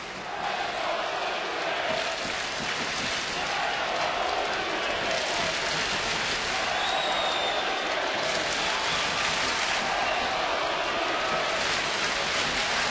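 Loud, steady roar of a baseball stadium crowd cheering as a Toronto home game against Tampa Bay goes to extra innings, a dense wall of shouting and applause that holds at full strength throughout.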